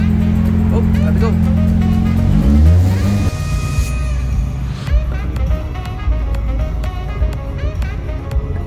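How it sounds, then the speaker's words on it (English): Drift car driven on a shakedown run, its engine droning loud and close before revving and shifting, then settling into a rougher, rumbling run while people talk over it. "I'm gonna drive this fucking piece of shit back home."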